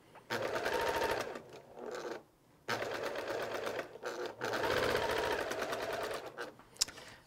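Sewing machine chain piecing a checkerboard star quilt block: several close, steady runs of rapid stitching broken by brief pauses, with no speech.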